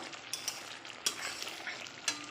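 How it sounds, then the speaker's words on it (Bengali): Pumpkin pieces sauté in oil in a pan for a mustard and poppy seed pumpkin dish, giving a steady close sizzle broken by a few sharp scrapes and knocks of stirring. No voices are present. "আমি একটু এটা কষিয়ে নেব"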